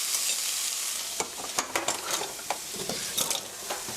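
Fried rice with pear and soy sauce is stir-fried in a pan, a steady sizzle with repeated scraping and clinking of a utensil against the pan, close and continuous with no talking.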